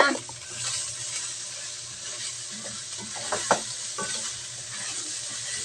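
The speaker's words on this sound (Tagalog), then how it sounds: "Tunog na palang kawali ko" A pan sizzles steadily with broad hissy frying noise, with occasional stirring clinks and scrapes of a utensil against the pan.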